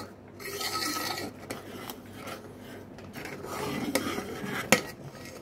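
A spoon stirring kheer, rice pudding with raisins, in a pot: repeated scraping and clinking of metal against the pot, close and moderately loud, with one sharper clank near the end and no talking.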